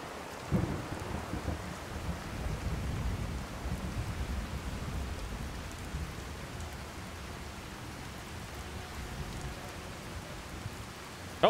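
Heavy rain pours steadily in a Fallout 4 thunderstorm. Low thunder rolls through the opening seconds, then the downpour keeps hissing evenly, and a sharp crack lands at the very end.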